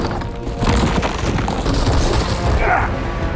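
Explosion in Batman: Arkham Shadow, a loud sustained rumbling blast with crunching debris and crashing wood, heavy and close, with a faint voice beneath.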